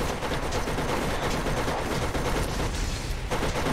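Rapid, dense gunfire from a turret in the video game Borderlands, a continuous loud rattling barrage that runs unbroken throughout with no talk over it.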